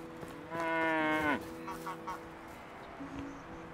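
A cow moos once in the farming game Medieval Dynasty, a loud, drawn-out call that ends abruptly, followed by faint game ambience and small background noises.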